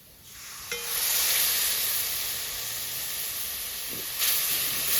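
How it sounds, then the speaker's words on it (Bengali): Spice paste with cumin powder, turmeric and chilli paste sizzling in a pan while being cooked down for a fish cutlet, a steady close hiss with a brief scrape near the start and a louder surge near the end. "ভালো করে মশলাটা কষিয়ে নেব"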